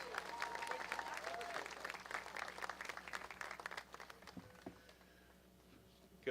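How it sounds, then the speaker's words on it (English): Audience clapping for an athletic director stepping forward at a statue unveiling ceremony: dense applause with some cheering, strong at first and then thinning and tapering off toward the end. "Ladies and gentlemen, clap it up for Mr. Jeremiah Donati as he comes forward."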